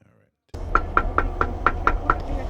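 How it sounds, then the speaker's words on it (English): A door is knocked on seven times in an even, quick rhythm. The knocks are sharp and close, over a steady low background hum, after a brief silent start. "I knocked on the door, and to my surprise, somebody actually answered the door."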